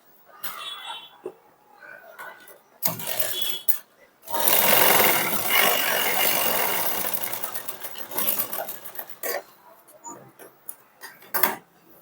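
A sewing machine stitches the joint seam on a sleeve extension in bursts, with a long loud run in the middle and shorter runs before and after, separated by quiet handling noises.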